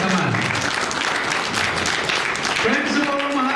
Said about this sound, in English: I already told you what he went through, and you're going to give him that small round of applause.